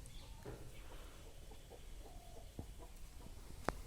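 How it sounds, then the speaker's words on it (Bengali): Chickens cluck softly nearby in scattered short calls against quiet background noise, with one sharper squawk near the end. "মুরগিগুলো"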